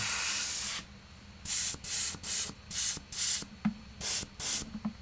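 A compressor-fed airbrush used for spray painting miniatures releases a string of short, sharp hissing bursts with brief pauses between them, loud and close, with no voices.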